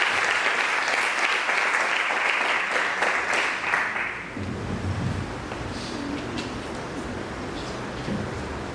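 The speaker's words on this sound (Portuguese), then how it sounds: "Dê um forte aplauso e engrandeça o nome do Senhor" Church congregation applauding loudly for about four seconds, a dense wash of clapping that then cuts off, leaving a quieter room with faint low murmur and movement.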